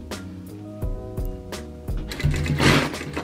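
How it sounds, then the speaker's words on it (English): A sewing machine stitches a slightly smaller cuff into the seam of a child's jogger trouser leg made from a hoodie, running in short bursts with brief pauses, then a longer, louder run near the end. "get your cuff, which is slightly smaller than your trouser leg, and just tug it into the seam."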